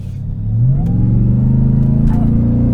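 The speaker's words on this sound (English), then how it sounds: "The Supercharger whine isn't completely obnoxious like it is in the Hellcats." A 2023 Ford F-150 Raptor R with its supercharged 5.2L V8 accelerates from inside the cabin, a loud deep engine rumble rising in pitch with a faint supercharger whine, no talk.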